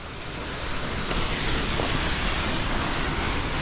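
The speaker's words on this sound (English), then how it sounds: "Waterfall behind you. Very beautiful." A waterfall beside the river Tigris produces a steady, broad, loud rush of falling water that swells slightly and stays constant throughout, with no voices over it.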